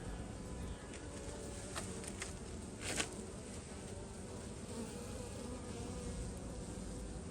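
Honey bees on a hive frame from a new package colony buzz in a dense, continuous drone, close and fairly quiet, with a few louder passes of individual bees.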